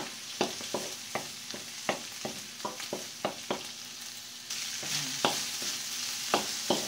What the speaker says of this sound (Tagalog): Ilagay naman natin ngayon ang egg. Haluin.